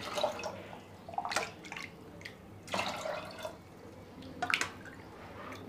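Water poured into a pot of pindi chickpeas before boiling, heard as a few separate close splashing pours with short pauses between them and no voices.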